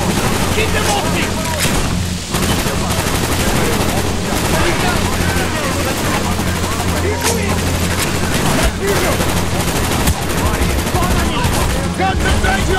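Dense, continuous gunfire from a Call of Duty: Black Ops battle, rapid overlapping shots and bursts with booming impacts filling the whole stretch at close, loud range.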